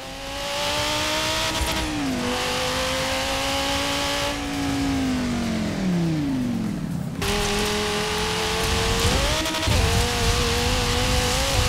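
Car engine in Forza Horizon 4 revving hard through several gear changes, pitch climbing and dropping, with tire squeal and a brief break before the engine roars again, loud and steady with no talk.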